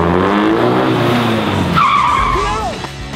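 A car skids hard on pavement, a loud tire screech with engine roar that rises, then breaks into a squealing slide before fading, close and sudden.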